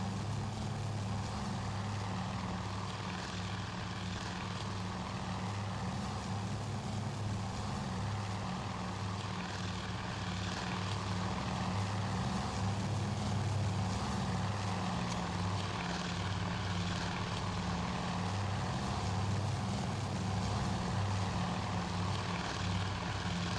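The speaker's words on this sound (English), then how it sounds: "More torpedo bombers are coming in." Torpedo bomber aircraft engines droning steadily from a naval battle game at Midway, a continuous low propeller hum that holds at roughly constant loudness throughout, with no talk.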